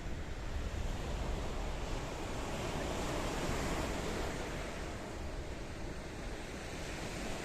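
Waves washing steadily onto the shoreline behind a hotel at Kato Paphos, Cyprus, a constant broad rushing surf with wind buffeting the microphone, loud and continuous without talk.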